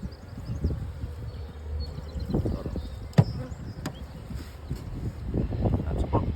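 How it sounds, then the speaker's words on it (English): Honey bees from a newly opened hive buzz steadily at close range, with sharp bumps, handling noises and faint talk nearby. "Full of bees, full of eggs."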